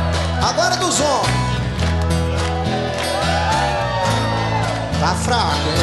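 Men in a Brazilian concert audience shout and whoop for the sertanejo singer, a loud sustained crowd roar over ongoing live music with a steady beat.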